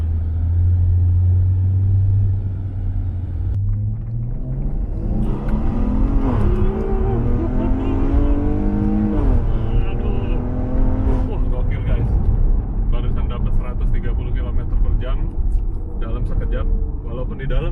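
A modified Maserati Quattroporte sedan on the road: the engine drones low, then revs up with rising, harmonic-rich exhaust as the valve opens under acceleration, fairly loud and close, with someone talking over it.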